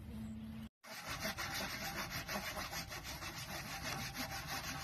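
A hand saw rasps steadily through wood in quick back-and-forth strokes during a tiny house build, close and loud, continuing without pause after a brief silence at the start.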